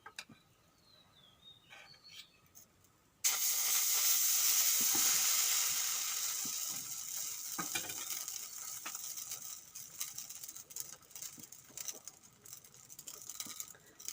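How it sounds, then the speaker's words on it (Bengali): Rice-based pitha batter hits an oiled wok and sets off a sudden loud sizzle that slowly eases into softer crackling and spitting. Quiet kitchen sounds come before it. "আমি কড়াইতে ভাজা করছি একটু তেল মাখিয়ে নিলাম"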